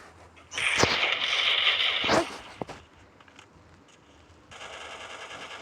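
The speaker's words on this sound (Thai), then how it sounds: "เสียงปืนคำรามนะมึง" A rapid burst of automatic gunfire in Free Fire lasting about two seconds, followed by a single sharp shot and a softer steady hiss.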